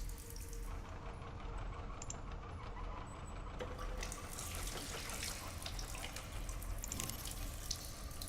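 Water spilling into a sink in the horror game Stasis, a continuous faint splashing and running trickle with scattered drips, quiet and steady throughout.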